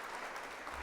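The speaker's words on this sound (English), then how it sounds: "So let's hit the old applause button." A short burst of canned applause triggered from a stream button, a steady faint wash of clapping lasting under a second.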